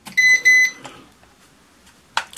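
A KF600 toy drone controller powered by AA batteries beeps as it switches on: two short, clear electronic tones close by, then quiet, with a faint click or rustle near the end.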